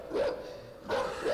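A dog barks in the side-scrolling video game INSIDE, two or three short loud barks with a pause between them, heard alone and close.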